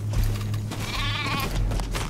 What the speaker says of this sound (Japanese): 仲間が羊を追い立ててくれた